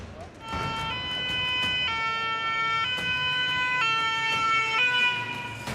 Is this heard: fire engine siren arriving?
yes